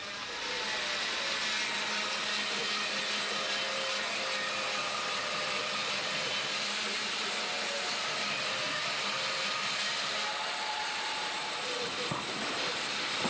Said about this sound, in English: I'm gonna fire up the bandsaw and get to it